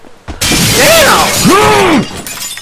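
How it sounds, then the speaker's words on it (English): Glass shatters loudly in the video game GTA 5 in one long crashing burst lasting more than a second, with bright tinkling debris, followed by faint residual noise. "You gonna keep breaking glass?"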